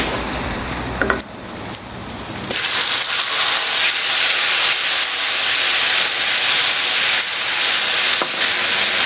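Water spinach greens hit hot oil already holding fried onion and garlic, setting off a loud, sudden burst of sizzling hiss that settles into a steady, close crackle with faint stirring.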